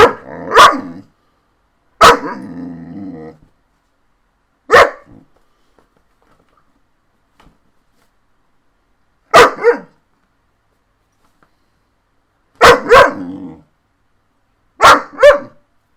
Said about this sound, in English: my fucking dog's gonna bark at the camera while I'm trying to record